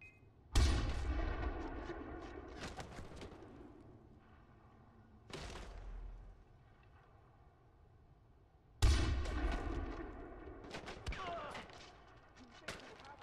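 Sniper rifle shots in Far Cry 4, three loud booming reports spaced several seconds apart, each trailing into a long echoing decay, with a few fainter cracks afterward.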